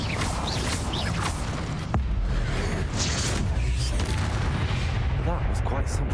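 Incendio fire spell cast in Hogwarts Legacy, a loud rushing burst of flame amid heavy, continuous combat booms and whooshes.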